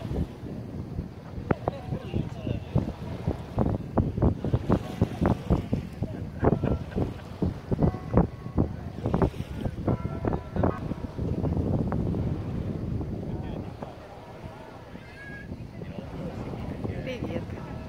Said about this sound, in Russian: Вода шумит.